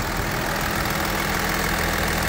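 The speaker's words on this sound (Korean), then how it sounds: "CRV GR24V V6 엔진입니다." A Honda CR-V with a V6 engine idling on a used car lot, a steady, dense engine drone that stays even and close throughout the short stretch, with no talk.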